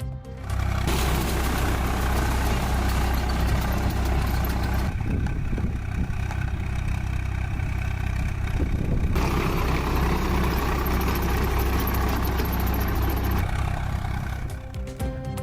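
A tractor driving over and crushing watermelons in a farm field in Tiruvannamalai district, its loud engine roaring continuously and changing in pitch and texture as it moves across the crop.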